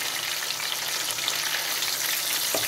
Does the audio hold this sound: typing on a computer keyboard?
no